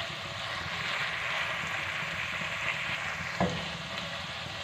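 Green chilies fry with garlic in hot oil in a pan, a steady close sizzling hiss that holds evenly throughout, with one brief click near the end.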